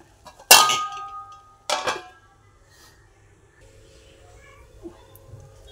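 A metal lid set onto a cooking pot of upma: one sharp ringing clang, then a second shorter clank a moment later, each fading quickly into a quiet kitchen with a faint low hum.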